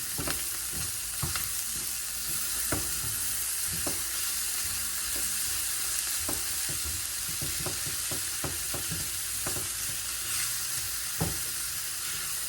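Peppers frying in a hot pan, giving a dense steady close sizzle with frequent sharp clicks and scrapes from stirring throughout.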